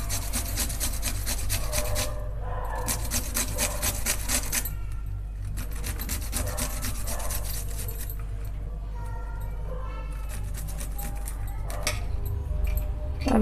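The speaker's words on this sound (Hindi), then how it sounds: "इसी के साथ हम लहसुन भी कस कर लेंगे।" Onion and garlic grated finely on a kitchen grater, a steady rasping scrape repeated in quick strokes close by, with brief pauses between bursts and no talking.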